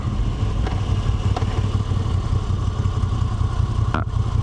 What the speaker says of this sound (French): c'est très sympa d'entendre le moteur qui se met en marche et qui donne de sa puissance